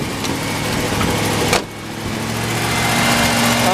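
A 1992 Ford F150 with a 5.8L engine and a restricted exhaust runs steadily with a muffled, strained hum, briefly interrupted by a sharp click, then continuing close and even.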